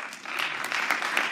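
Audience applause after a Christmas horror triple feature screening during a Q&A, a dense sustained patter of many hands clapping, loud and steady throughout.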